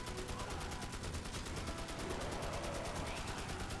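Rapid gunfire in the video game Magicka, a dense, steady rattle of shots that fills the whole stretch without pause, loud and close with no talk over it.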